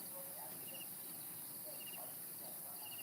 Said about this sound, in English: sounds of crickets.